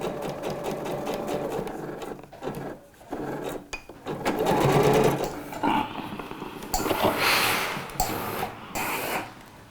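A domestic sewing machine stitches a seam on Alfie-pattern trousers, running in short bursts with brief stops between runs, fairly close and loud, with no talking.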